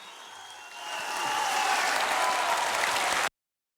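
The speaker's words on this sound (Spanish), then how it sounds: "¿Han visto la ovación que les hacen?" Concert audience giving an ovation after a performance, clapping that swells from moderate to loud and full before cutting off abruptly, with faint crowd voices mixed in.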